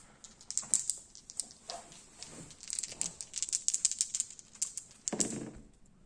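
Dice rattle and clatter in quick bursts across a tabletop during a Warhammer Fantasy Battles 8th edition game, High Elves against Dark Elves, with a louder tumbling roll near the end and no voices.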